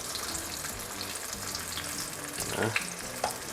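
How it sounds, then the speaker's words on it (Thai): Vietnamese chive cakes deep-frying in hot oil, a steady loud hiss and crackle with a few sharper pops and spatters near the end. "ตัวนี้ทอดไม่นานนะครับเดี๋ยวมันก็จะรู้สึกว่า กรอบนะครับ"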